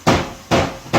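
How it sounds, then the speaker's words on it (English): Hammer blows land on a car's front bumper: three sharp, fairly loud metallic whacks spaced about half a second apart, each trailing a brief ringing decay, with no talk. "He's hammering away."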